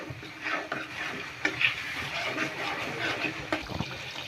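Cornflour slurry stirred into a pan of restaurant-style Chinese mixed vegetables: a steady wet, bubbling simmer with soft scraping and a few sharper clinks of the spoon against the pan, close and moderately loud, with no talking.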